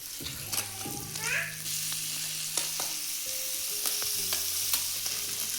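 Amli fish, freshly caught from a net, sizzling as it fries in a pan, with a steady hiss, occasional spatters and a few light utensil clicks while the pieces are flipped, fairly close.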